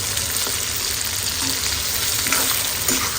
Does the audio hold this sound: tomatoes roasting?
yes